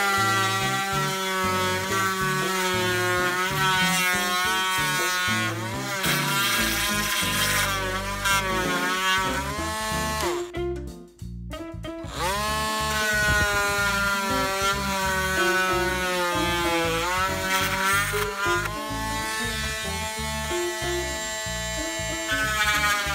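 A power tool cuts into the side edges of an Etch-A-Sketch toy, a loud, steady high-pitched whine with a rising and falling motor pitch and a short pause midway, no talking.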